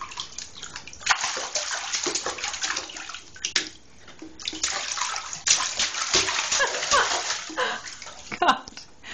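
A child splashes in a home bathtub, sending up repeated bursts of loud, close sloshing and slapping water in irregular waves, with a voice mixed in.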